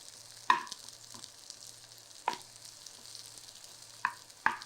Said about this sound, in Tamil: இப்போ இதில் கொஞ்சோண்டு வதக்கிக்கணும்.